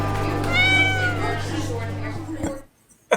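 A cat lets out a drawn-out, close meow over a low background hum, followed by a short knock and then near silence.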